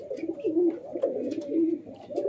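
Giribaz pigeons coo close by in soft, low, throaty rolls that repeat in a steady rhythm, with a faint flutter of movement in the background and no talking.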